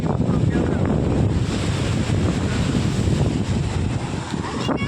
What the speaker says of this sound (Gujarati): કેટલા મોજા મોટા ને મોટા આવે આમ જોવો જ ખરી